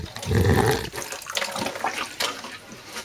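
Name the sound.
watering sown herb seeds in a pot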